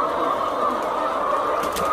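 Hens in a modern indoor poultry barn for floor-raised laying hens, a dense continuous mass of clucking and murmuring from many birds at once, loud and steady throughout with no talk.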